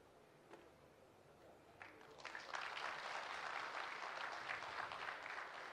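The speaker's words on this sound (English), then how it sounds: "Let's give a resounding applause for him, please." Applause for the Minister for Energy of Andhra Pradesh at a company opening event in Kadapa, starting faint and swelling after about two seconds into a steady, broad clapping from a large audience that continues to the end.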